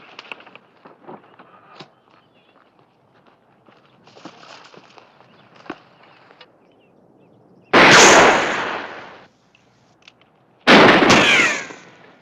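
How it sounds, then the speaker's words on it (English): Two loud, broadband blasts of gunfire in a western film scene, each sharp crack trailing off over a second or two, spaced about three seconds apart after a quieter stretch of footsteps and movement. "Hold your fire, Bert."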